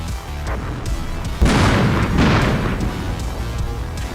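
Bomber air strike in the Armored Brigade II game, a deep booming explosion bursting loud midway, followed by a rolling rumble of further blasts that slowly fades.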